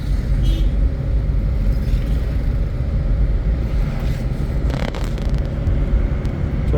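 A manual car accelerates in third gear, its engine a steady low rumble with road noise that holds fairly loud and continuous throughout, without voices.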